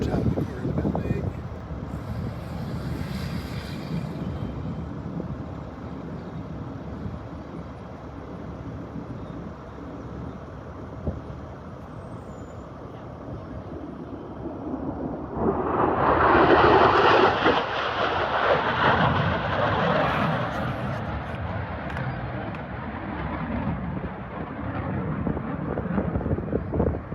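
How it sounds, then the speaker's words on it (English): A fast jet at the Sun N Fun airshow in Lakeland, Florida, roaring overhead as a broad rushing swell halfway through, over steady wind and crowd noise, with a faint voice early on. "There's a jet right over top of the corner of the building."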